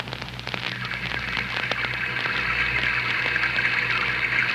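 Steady rain sound effect from a 1930s-style radio play, a continuous hiss of falling rain with a faint low hum beneath, holding at an even, moderate level with no talking.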